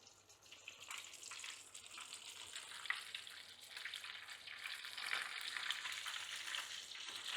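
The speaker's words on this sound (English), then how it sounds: "Oh, you see that bad boy frying right there?" Chicken sizzles and bubbles in hot oil, a steady crackling fry heard fairly quietly and up close.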